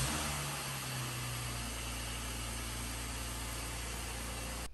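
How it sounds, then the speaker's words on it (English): A car engine idles steadily after a remote start, heard as a constant low rumble and broadband hiss with no change for nearly five seconds and no talk. "I'm gonna go ahead and crank my car up to heat it up, and it has remote start"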